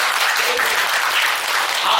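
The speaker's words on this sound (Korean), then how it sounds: "박수 한번 치세요." A Buddhist temple congregation applauds during a dharma talk by a senior monk, with steady, close, continuous clapping that holds at a constant level for the whole short stretch.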